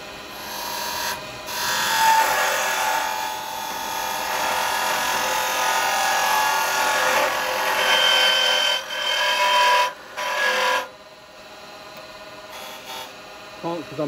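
A carbide chisel cutting wood on a lathe while woodturning, producing a continuous rough scraping rasp with short pauses where the tool lifts off, close and fairly loud, with a person talking at times.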